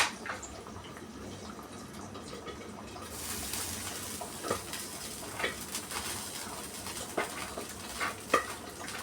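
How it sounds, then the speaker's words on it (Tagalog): A pot of mung bean soup (monggo) with freshly added spinach simmers at a steady boil, a low bubbling wash broken by occasional stirring knocks and drips, with no talking. "Kumukulo na siya."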